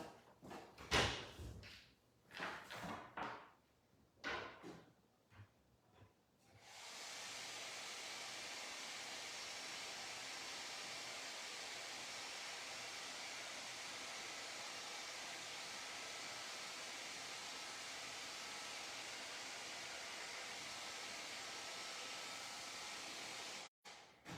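A hair dryer switches on after a few knocks and handling sounds, then blows as a loud, steady whoosh for nearly twenty seconds before cutting off abruptly.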